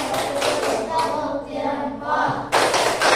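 A classroom of students gives a short burst of clapping for a group presentation, a dense patter of hands that starts up again loudly near the end.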